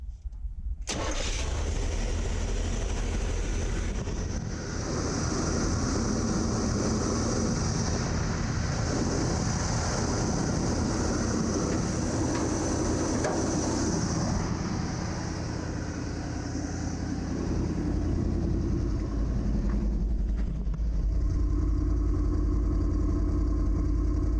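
A car engine fitted with a freshly rebuilt Quadrajet carburetor cranks and catches, then settles into a loud, steady running drone that holds for the rest of the clip, close up and without talk.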